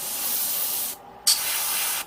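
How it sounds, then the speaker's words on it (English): Steady hissing bursts of an aerosol spray can painting a Gundam model kit, with a brief pause in the middle before spraying resumes, close and fairly loud. "Let's spray on this side for a second."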